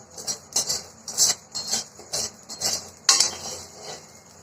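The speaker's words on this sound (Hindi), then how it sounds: "देखिए इसके पॉपकॉर्न आपको आवाज भी आ रही होगी।" Amaranth (ramdana) seeds popping in a hot pan over a full flame while being stirred, a quick series of sharp crackling bursts and light clinks at close range, repeating irregularly with no talking.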